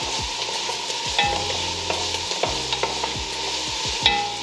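Onions and garlic sauté in a pan, a steady close sizzle with a spoon repeatedly scraping and stirring through it in uneven strokes, and no talking.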